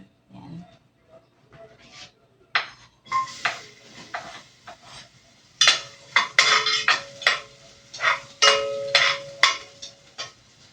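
Onion, garlic and green onion leaves are sautéed in a pan, with a spoon stirring and scraping in bursts of clinks and light sizzle that grow busier and louder toward the end.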